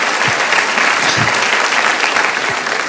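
Congregation applauding during a church sermon, a steady wash of clapping from a large crowd filling the whole stretch at a loud, even level.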